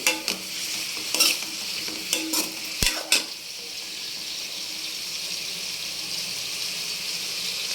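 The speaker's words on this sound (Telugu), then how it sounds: "అప్పుడు బీరకాయ పచ్చిమిర్చి వేగిన తర్వాత టమాటా వేసుకోండి. 3 ఒకేసారి వేయించండి." Ridge gourd, green chilies and tomato fry in oil, a bright continuous sizzle close by, with a few quick stirring scrapes early on before the frying settles into a steady hiss.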